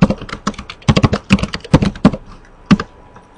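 Keys clatter on a computer keyboard as a short command is typed, a quick run of close, crisp clicks in uneven bursts that fade out near the end.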